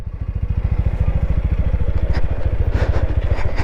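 A motorcycle engine thumps in a fast, even rhythm close by while being ridden on a hill road in northern Gorkha, with faint clatter over the steady pulse.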